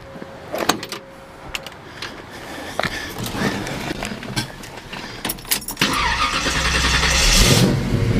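A classic car with headers and a new Flowmaster exhaust system is started: scattered clicks and knocks come first, then the engine catches and settles into a loud, rising, continuous rumble close by.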